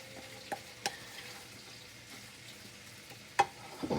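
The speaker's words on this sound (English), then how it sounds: "Give it a good stir." Seasoned fried potatoes are stirred in a pan over a faint sizzle, with a few soft scrapes and clicks of the utensil, quiet and close.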